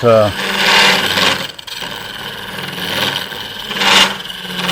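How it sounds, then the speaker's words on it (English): Bowl gouge cutting wood on a lathe during woodturning, a loud rasping, scraping roar that swells and eases in waves with a brief break partway, close and continuous. "So we can cut a good little bit there with the bowl gouge, get us started"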